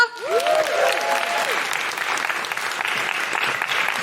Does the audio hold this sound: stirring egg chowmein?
no